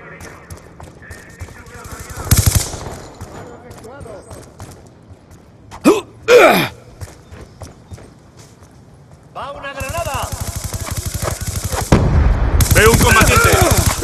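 Bursts of rapid automatic gunfire from a video game, loud and sustained in stretches, with short sharp shots and game sound effects between them.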